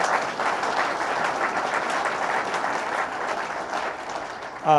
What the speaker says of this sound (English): Howard Zemsky, let's give him a big round of applause